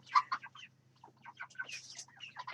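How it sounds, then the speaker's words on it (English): Young chickens make a quick string of soft, scratchy clucks and chirps up close, short bursts scattered over a couple of seconds against a faint low hum. "the chickens no longer peep. They now go pop, pop, pop."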